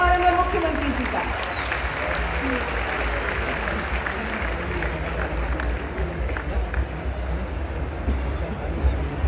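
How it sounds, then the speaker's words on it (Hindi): An audience at an LIC Bima Sakhi scheme launch event in Panipat applauds to welcome the chief minister, with steady, moderately loud clapping sustained throughout and a low rumble and voices mixed in. "जोरदार तालियों से स्वागत करें माननीय मुख्यमंत्री जी का।"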